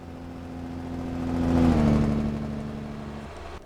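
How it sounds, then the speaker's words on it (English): Jake brake engine braking on a heavy truck in American Truck Simulator, a deep droning rumble that swells to a peak midway and then eases off, steady and alone with no talk. "Everything gets solved with a little bit of engine braking"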